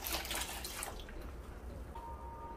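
Water poured over soaked wheat grains in a bowl, a short splashing pour at the start that fades into quieter trickling and dripping, close and alone.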